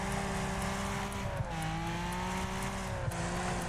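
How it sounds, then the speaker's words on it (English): A race car in Wreckfest holds a steady engine drone as it slides through a corner at the Hillstreet Circuit, the pitch dipping slightly mid-drift and faint tire scrubs audible, alone with no voices. "Can we drift this round the outside of this one?"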